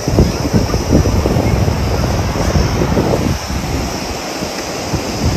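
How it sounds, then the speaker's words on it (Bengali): Steady roar of sea waves breaking on the beach at Bakkhali, mixed with wind buffeting the microphone, loud and continuous throughout. "এই সেই সমুদ্র, ঢেউ বেশ ভালো।"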